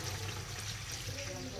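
A glass of water is poured into a cooking pot, a steady splashing trickle lasting the whole moment, close and moderately loud with no talk over it.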